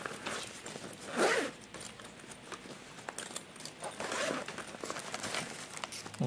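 A sealed package of CCTV tools is opened close up, with quiet zipper-like rips, crinkling and rustling in short bursts.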